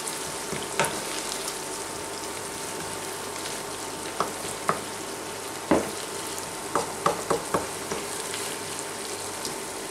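Garlic cloves frying briefly in a pan during a Serbian chicken and vegetable bake, a steady close sizzle with scattered sharp clicks and scrapes of stirring.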